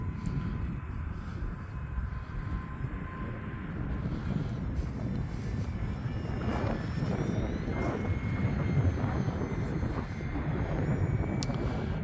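A small E-flite UMX Turbo Timber Evolution radio-controlled model airplane drones steadily at a distance, its buzzing pitch rising and falling slightly as it flies past, with no talking.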